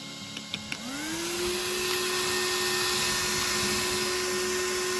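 A few small clicks, then a Pass Hobbies Rocket 28,000 RPM RC motor spins up into a loud, steady, high-pitched whine that holds close and constant.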